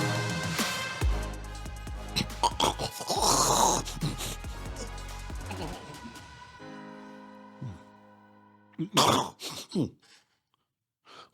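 A person imitates a loud, obnoxious snore with nasal, throaty rasps and groans, followed by quieter tones and a few sharp bursts near the end.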